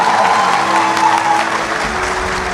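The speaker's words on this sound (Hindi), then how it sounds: "इनके लिए बहुत भरपूर तालियां" Steady, dense audience applause at an Urdu poetry mushaira, loud and continuous throughout with a full crowd clapping together.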